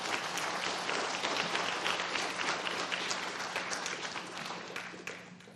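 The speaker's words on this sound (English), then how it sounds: "let's give these people a great round of applause" Sustained audience applause at a county athletic hall of fame induction ceremony, many hands clapping in a dense steady wash that tapers slightly toward the end.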